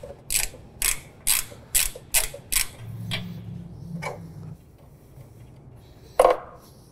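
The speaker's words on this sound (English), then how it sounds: "we're going to break out our 13/16 spark plug socket and ratchet. And we'll just start to loosen that off." A ratchet with a 13/16 spark plug socket loosens a spark plug on a John Deere X350 mower, about seven loud, evenly spaced close clicks, then a low creak, a few softer clicks and one last sharp click.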